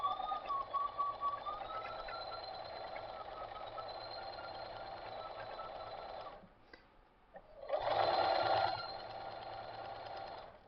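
Sewing machine stitching quilt fabric for a king-size border quilt: a steady, close mechanical whir running continuously, a brief pause, then a louder burst of stitching before it settles back to a steady hum, no talking.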